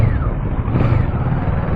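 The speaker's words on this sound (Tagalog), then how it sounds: "Yung tunog ng motor," Steady motorcycle engine drone with road and wind rumble while riding through the street, a continuous low hum with no talking, heard through a rider's helmet microphone.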